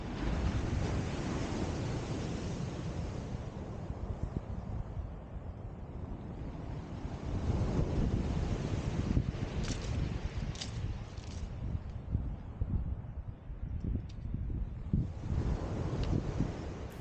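Steady breezy wind buffets the microphone at a seaside beach on King's Road, Lancing, with continuous surf and wave wash filling the background throughout, loud and unbroken.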